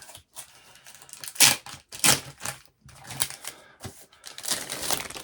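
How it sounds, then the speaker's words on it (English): A comic book is slid out of its plastic bag, giving a series of sharp crinkling and rustling bursts of plastic, close and fairly loud, with short pauses between pulls. "Let me take it out of the plastic bag so there's less glare."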